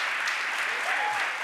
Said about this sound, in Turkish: Yeşim ve Sezgin'e çok büyük alkış.